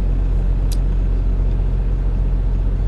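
A truck passes close to a car on a highway at night, a loud steady roar of road and engine noise heard from inside the vehicle with a brief hiss partway through.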